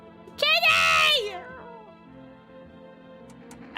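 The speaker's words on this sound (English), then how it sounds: "I pick up the cat." A cat in a video game meows once when picked up, a loud drawn-out cry that bends downward, followed by quieter game sounds and a faint voice.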